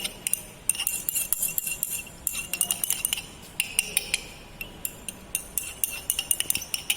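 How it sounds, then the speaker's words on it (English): Stirring boric acid in water in a glass container in a lab, a spoon or rod clinking lightly and steadily against the glass in quick close taps, with no one talking. "Here we have to dissolve this boric acid by continuous stirring."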